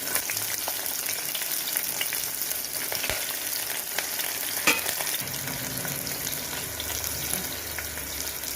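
Onions fry in a pan for a wheat rava kichdi, a dense, continuous crackling sizzle that holds steady and close throughout, with a few small clicks of stirring and no talk.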